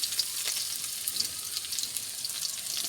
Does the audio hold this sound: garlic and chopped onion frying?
yes